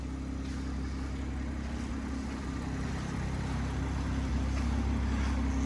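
A BMW M140i Shadow Edition engine runs at about a quarter throttle, a steady, fairly quiet low burble holding even throughout.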